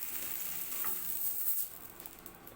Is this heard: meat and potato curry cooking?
yes